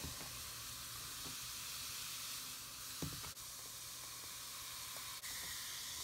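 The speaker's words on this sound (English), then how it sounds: "It's fizzing, it's fizzing, it's fizzing." A LOL Surprise Charm Fizz toy ball fizzes in water with a steady close hiss and a few faint bubbly pops and clicks, continuous and without talking.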